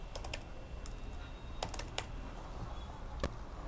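Keystrokes on a computer keyboard come in short scattered bursts of clicks, moderately near over a steady low background hum, with no voices.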